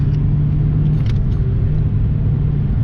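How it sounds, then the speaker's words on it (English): Car launching hard from about 4,000 RPM and shifting before 6,000, a steady, dense engine roar with heavy low rumble, close and loud throughout, no voices. "It launches, and then when it gets to 6 grand, I don't want to red line it. I shift."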